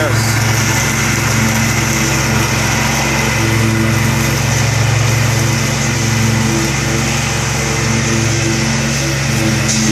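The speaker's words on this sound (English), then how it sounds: "He said he cuts grass 6 or 7 feet tall all the time with the mowers the city gives him." A city-issued lawn mower cuts grass about seven feet tall, its engine droning loud and close in a constant drone that stays unbroken throughout.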